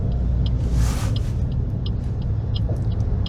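A car accelerates across lanes at a roundabout during a driving lesson, its engine a steady close rumble inside the cabin, with a few faint ticking clicks over the drone.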